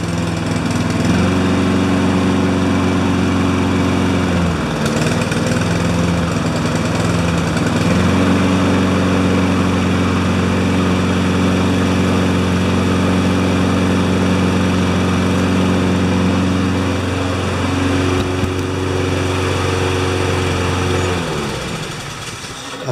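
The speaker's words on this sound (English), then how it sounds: "listen to the motor now" A Honda HRR216 walk-behind lawn mower engine with a plugged air filter runs loud and steady for over twenty seconds, its droning hum dipping and shifting pitch a couple of times before cutting off near the end, with no talk over it.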